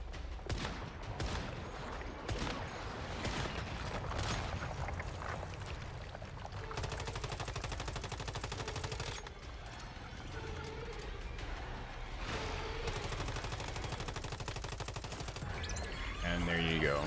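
Sustained automatic gunfire in the Once Human video game during a boss fight, dense rapid bursts running nearly continuously at steady loudness, with a game soundtrack and effects mixed underneath.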